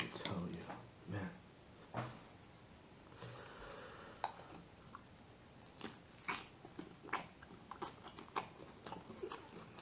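Close, quiet eating of Polish pancakes (nalesniki) filled with cottage cheese and raisins: soft, moist chewing and smacking with occasional sharper bites, intimate and near with no talking.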